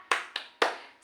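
A classroom of children does the tepuk semangat clapping chant, three sharp rhythmic claps in quick succession, close and crisp, with no talking.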